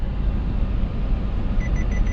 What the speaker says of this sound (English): It tells you to downshift. It gives a beep.